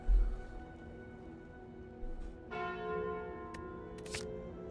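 Calling Bell relic in the Slay the Spire video game, a single deep church-like bell struck once and left ringing with a long, slowly fading resonance, preceded by a soft thud and followed by a brief bright chime.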